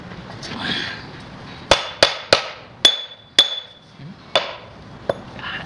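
Hammer blows on a car oil cooler ring out with a bright metallic clang, seven or so distinct strikes spaced irregularly, close and loud, after some softer handling noise.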